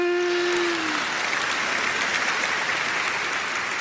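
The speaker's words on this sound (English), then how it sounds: "And the crowd goes wild" A steady wash of crowd cheering and applause plays as an effect, loud and sustained throughout, with a brief fading tone at the start.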